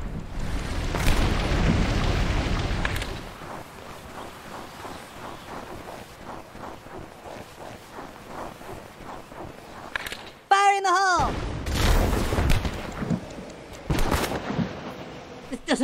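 Fire attack blasts in a South Park video game: heavy rumbling bursts and booms with crackling flames, plus a sharp zapping effect, heard under character voices talking throughout.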